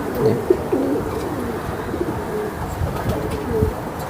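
Racing pigeons at a loft cooing in soft, low repeated bursts, close by, with light rustling and a few faint chirps in the background.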